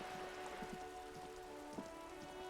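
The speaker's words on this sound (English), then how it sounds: "Are your books really out in the rain?" Rain falls in the video game Disco Elysium, a faint, steady patter of drops on surfaces with scattered individual plinks over a low tonal background hum.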